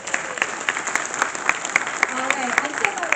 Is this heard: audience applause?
yes